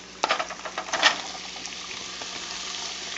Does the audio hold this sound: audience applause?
no